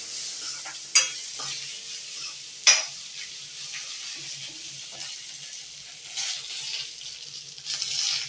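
Coarsely crushed garlic fries in a pan with mustard seeds, cumin and red chilli for a pumpkin-leaf dalma, a steady close sizzle broken by two sharp spoon clinks and ongoing stirring scrapes.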